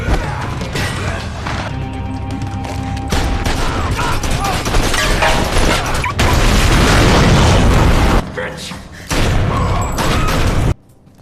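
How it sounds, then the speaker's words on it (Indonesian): Gunfire shootout from the action film Bullet to the Head: dense, loud bursts of shots, booms and crashes under a driving music score, with brief drops before the racket resumes. "Setelah itu terjadilah baku tembak"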